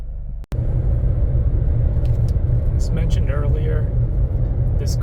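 A Chevrolet Trax SUV drives on the road with a steady, loud low rumble of engine and tire noise, a brief cut near the start, and faint squeaks and clicks over the drone.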